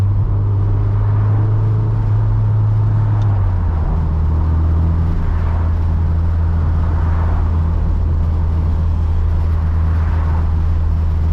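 A Toyota MR2 Turbo, restored after being abandoned, drives on a winding road at about 40, its steady low engine drone and road rumble heard from inside the car, with the pitch dropping slightly after a gear change.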